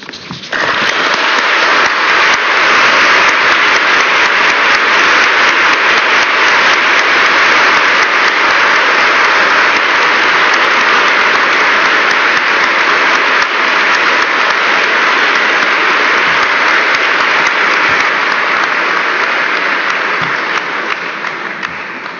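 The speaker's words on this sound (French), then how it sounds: "Ces applaudissements vous disent, je crois, notre reconnaissance." A lecture hall audience applauds at length after a talk on the history of the Shoah, dense sustained clapping from many hands, loud and even for over twenty seconds before easing slightly at the end.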